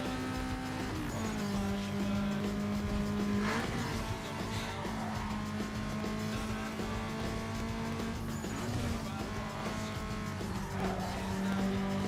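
Mazda RX-8 racing in Need for Speed Underground 2, a steady game engine drone with repeated tire squeals and skids, loud and continuous with no talk.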